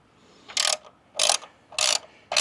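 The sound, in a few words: tightening light mount with 13mm wrenches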